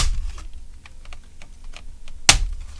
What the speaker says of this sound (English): clicking it as it's coming off